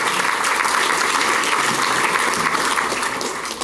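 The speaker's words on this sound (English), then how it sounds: "that's worth a round of applause" An audience at a City Club event claps steadily and loudly, a dense sustained round of applause that tapers slightly near the end.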